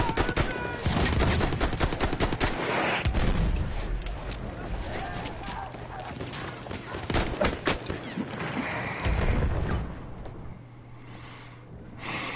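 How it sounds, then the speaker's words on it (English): Battlefield 1 trench combat: machine-gun bursts and scattered rifle shots crackle in quick uneven clusters at mid distance, over a rumbling battlefield bed, with brief in-game voice callouts and a gasp mixed in before the noise thins out. "Enemy machine gun, sighted."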